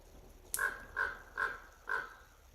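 A crow caws four times in an even rhythm outdoors in snowy weather, each call harsh and fairly close over quiet background.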